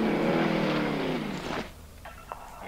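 A small car driving in the Warzone video game, its engine hum droning steadily and close for over a second before dropping away, leaving a few faint clicks.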